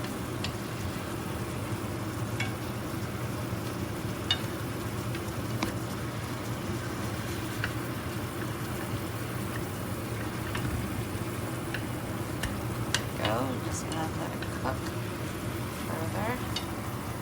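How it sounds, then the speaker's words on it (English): Steady bubbling and sizzling of chicken teriyaki simmering in sauce in a pan, continuous throughout with occasional small pops and clicks. "my chicken teriyaki has been boiling for a couple minutes"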